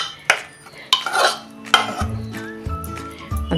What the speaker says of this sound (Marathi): हा आवळा की आता एक मिनिटभर असा खालीवर करून घेऊया